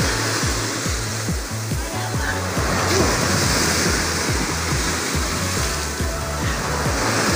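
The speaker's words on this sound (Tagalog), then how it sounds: "Lakas na alon." Strong ocean waves roar and crash continuously nearby on Puka Beach, Boracay, a loud, rushing wash of surf with heavy wind buffeting.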